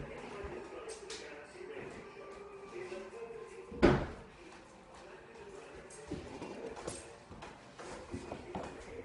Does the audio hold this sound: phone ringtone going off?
no